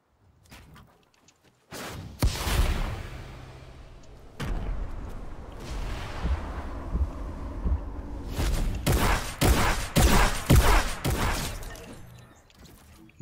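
Bursts of in-game weapon fire in a shooter game, loud repeated blasts and rapid volleys with booming impacts, clustered in several bursts over a noisy battle background.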